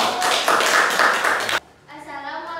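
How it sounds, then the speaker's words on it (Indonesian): A class of students claps for a presenting group in a school lesson, a brisk burst of applause lasting over a second before it cuts off and a voice begins speaking. "Beri tepuk tangan untuk kelompok"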